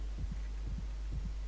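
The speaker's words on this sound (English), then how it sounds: "Oh, you can hear his heartbeat." A slow, muffled double-thump heartbeat repeats three times over a low steady hum in the horror video game Dead Space, with no talk.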